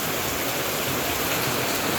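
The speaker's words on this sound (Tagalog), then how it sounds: "ilang araw na naman kaya itong ulan na to" Steady rain falling outdoors at Christmas in Dait in the Philippines, a dense even hiss of downpour with no talking, continuous and fairly loud.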